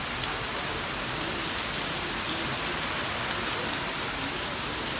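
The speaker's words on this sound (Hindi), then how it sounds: "तेज बारिश," Heavy monsoon rain pours steadily in Mumbai during Cyclone Biparjoy, a dense, continuous hiss of drops hitting surfaces, close and even throughout with no voices.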